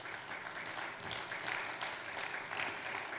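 Applause from a church congregation during a Spanish-language service, a steady, moderately distant wash of clapping that swells slightly and continues through the whole stretch.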